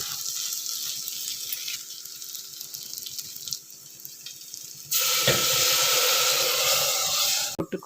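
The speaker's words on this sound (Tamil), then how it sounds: "இப்போ பாருங்கள், இந்த பருப்பு எடுத்து இதில் ஊற்றிடலாம்." Steady frying sizzle, then a louder rushing hiss as cooked lentils pour into the hot pan and keep bubbling, ending with a clink.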